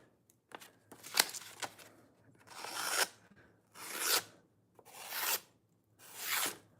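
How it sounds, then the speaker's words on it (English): A kitchen knife is sharpened in a series of about six rasping strokes, each a swelling scrape with short pauses between, close and fairly quiet. "I just did this knife sharpening."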